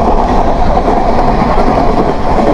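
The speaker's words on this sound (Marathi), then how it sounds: "फायनली गाईस चाळीसगाव स्टेशन आलेलं आहे आणि एकतरी गर्दी बघा" A train rumbling at the crowded Chalisgaon railway station in India, a loud, continuous, close roar of wheels and carriages with a dense, even low-frequency drone.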